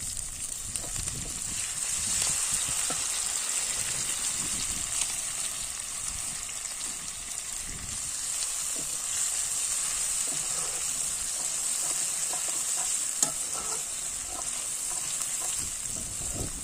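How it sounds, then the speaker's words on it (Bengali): Garlic paste and chillies fry in a pan with a steady, moderate sizzle and hiss, broken by soft stirring scrapes and occasional pops, continuous and fairly close, with no talking. "লঙ্কাগুলো একটু হালকা করে ভেজে নিতে এবার দিয়ে দিলাম রসুন বাটা"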